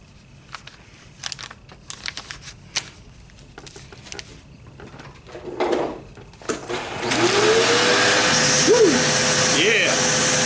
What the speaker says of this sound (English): I did notice my vacuum cleaner is rolling away from me